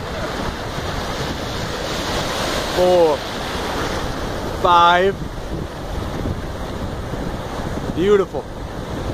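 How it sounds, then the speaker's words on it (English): Ocean waves wash steadily onto a beach during an outdoor workout session, a continuous broad surf and wind rush running throughout, with a person counting and giving brief remarks over it. "At the beach gym with the waves."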